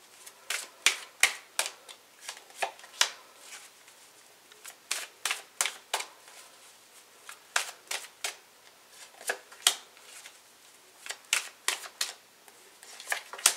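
A deck of tarot cards being shuffled by hand in a quiet room, with rapid crisp riffles and slaps coming in irregular bursts, close and fairly loud, and no one talking.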